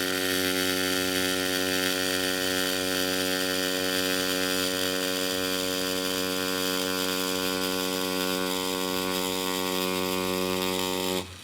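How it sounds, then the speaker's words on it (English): A tattoo machine fitted with a ballpoint cartridge drawing on paper buzzes steadily with a strong electric hum and faint mechanical rattle, close and continuous for about eleven seconds before abruptly stopping. "The idea is to utilize this workbook with a tattoo machine and a ballpoint cartridge"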